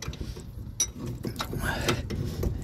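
A 13/16 wrench works on a Mercury Villager ball joint, producing close metallic ratcheting and clicking with scraping and knocks over a steady low mechanical hum.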